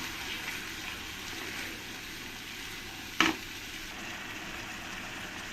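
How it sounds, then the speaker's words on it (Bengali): Tomato paste sizzles steadily with masala in a pan for a katla fish kaliya, a soft constant frying hiss with one sharp clink of a utensil midway. "এই টমেটো পেস্টটা দিয়ে ভালো করে একসঙ্গে আমি কষিয়ে নেব"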